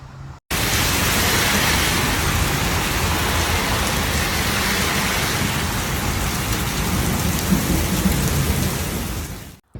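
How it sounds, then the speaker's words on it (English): A violent thunderstorm in Namur, Belgium, with intense rain, hail and strong gusts: a loud, dense, unbroken roar of pouring rain and rumbling that starts abruptly and cuts off just as suddenly, with no voices. "violent thunderstorms broke out in Namur including hail, intense rain, and gusts of up to 100 km/h"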